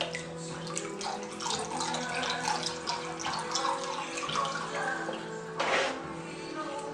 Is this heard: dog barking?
no